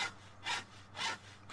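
Hand saw cutting through a tree trunk in Farming Simulator 17, with three rhythmic rasping strokes evenly spaced, close and moderately loud with no talk.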